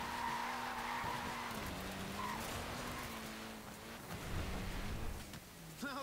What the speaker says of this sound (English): Look at that, laying down some rubber.